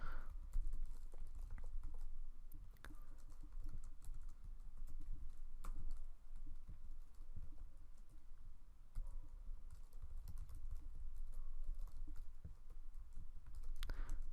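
Fingers type on a computer keyboard at a console, a quiet, continuous patter of key clicks with a few sharper taps scattered over about fourteen seconds, with no talking.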